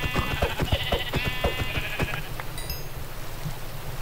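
Minecraft sheep bleating, one long quavering bleat in the first half over rapid clicking game effects and a low drone, followed by a brief high tone and then a quieter steady background.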